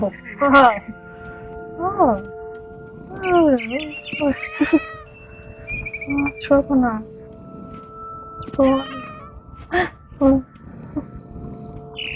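A cat meowing in the video game What Remains of Edith Finch, several short, bright mews spread through the scene, mixed with game sound effects and a brief line of spoken voice.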